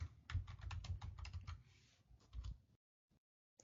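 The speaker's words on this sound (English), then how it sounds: "Let me type ifconfig." Fingers type a Linux command on a computer keyboard, a quick close burst of light key clicks that slows, pauses, then ends with a couple of isolated taps amid near silence.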